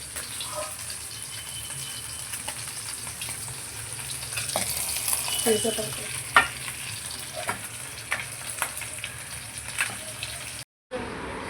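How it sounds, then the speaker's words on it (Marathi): Pomfret fish coated in semolina frying on a small pan, a moderate close sizzle with occasional scraping and clinks, ending in a brief cut to silence and a return of the sizzle. "आपला तवा छोटा असल्यामुळे आपण एक एक फ्राय करू"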